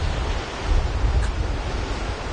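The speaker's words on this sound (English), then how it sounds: "those waves crashing" Ocean waves crash on a shore at sunset, a steady, loud roar of surf mixed with wind buffeting the microphone and no clear breaks.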